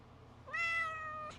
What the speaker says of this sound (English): oh, here's the cat